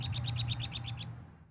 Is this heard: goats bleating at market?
no